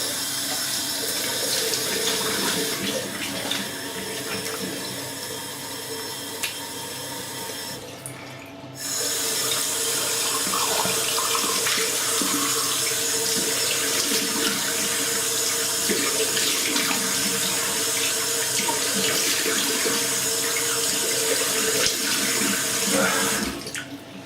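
Tap water running steadily into a sink, a continuous splashing hiss that briefly cuts out and then resumes at a fuller flow for the rest of the stretch.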